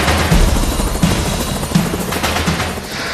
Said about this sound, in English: Winching in all the way to the aircraft.